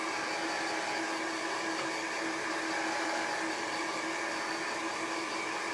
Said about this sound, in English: I'm gonna get my blow dryer that I have down here and just make sure all this stuff is dry